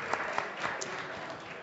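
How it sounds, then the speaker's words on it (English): Applause from a crowd at a students' union election results night, a fairly faint, even patter of clapping with a few sharper claps standing out. "Everyone, round of applause for Jake, please."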